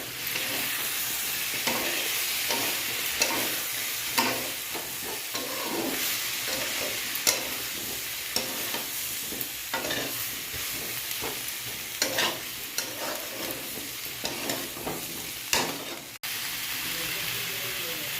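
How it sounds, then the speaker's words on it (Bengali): Cumin and coriander powder sizzle as they fry in a pan, with repeated scraping strokes of a spoon stirring them in an uneven rhythm, close and fairly loud. "এবার আমি জিরের গুঁড়ো, ধনের গুঁড়ো দিয়ে দিলাম। দিয়ে এবার আমি একটু নাড়বো।"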